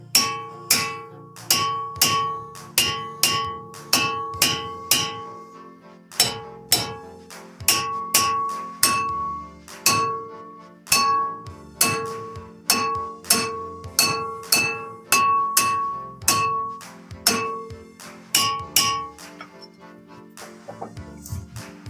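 A hammer strikes a rusted front brake rotor on a 2016 Mazda 6 again and again, loud, sharp metallic blows in a steady rhythm of about one to two per second with a brief pause midway.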